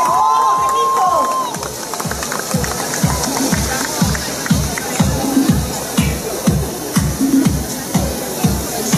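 Crowd at the start of a university rally in Mexico welcoming the invited team from Poland, with rhythmic, pulsing claps and cheering that hold steady and loud throughout, a voice briefly audible at the start.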